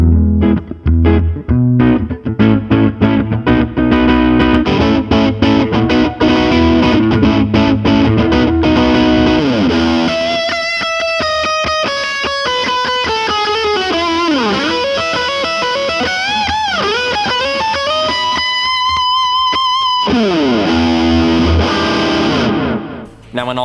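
An electric guitar runs through a Fractal Audio FX8 multi-effects pedalboard with drive, delay and reverb, loud and sustained: first chugging distorted chords, then ringing, bending lead notes whose echoes trail and repeat before the tone cuts off.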